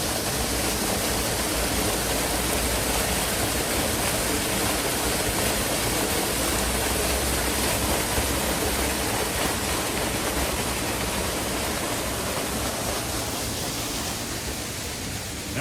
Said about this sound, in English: a pretty waterfall. Did they add that? Was that feature always there?